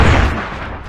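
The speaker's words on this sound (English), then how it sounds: "I'm gonna try to lob some nades in there and get a couple kills." Grenade blasts in the tactical shooter SOCOM Confrontation: a heavy, booming explosion up close at the start, its rumble fading into a dense roar of battle noise with no talking.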